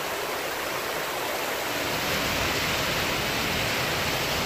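A small waterfall in Temecula gives off a steady, close rushing hiss of falling water that stays even and full throughout, with no voices.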